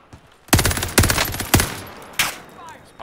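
Video game gunfire, close and loud, with rapid bursts of automatic shots in several clusters and a single sharp crack after a pause, fading into echoing tails.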